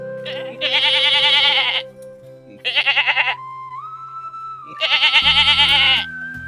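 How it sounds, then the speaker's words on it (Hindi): A goat bleats loudly and close by in three long, wavering calls separated by short pauses, with a low hum of background sound between them. "अरे रे, कौन सी बकरी है ये?"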